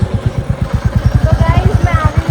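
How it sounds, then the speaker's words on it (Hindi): A motorcycle engine runs loud and close while a woman rides it with a passenger behind her, giving a fast, steady, low throbbing pulse with no pauses. "तो गाइस मैं आ गई हूँ बाहर बाइक चलाने और मेरा मन कर रहा था कि मैं बाइक चलाऊँ"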